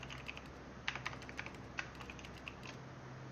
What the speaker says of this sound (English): I like the sound that it's like a typewriter.